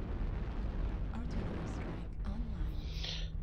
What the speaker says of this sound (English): I countered with my own airstrike